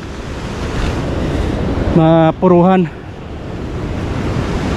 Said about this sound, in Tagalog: Ayun, lakas ng alon.